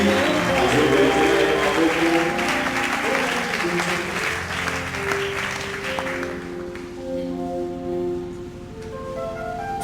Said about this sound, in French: Jésus, encore un peu plus fort. Nous acclamons le roi de gloire, Jésus, le Seigneur éternel.